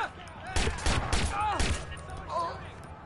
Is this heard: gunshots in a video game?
yes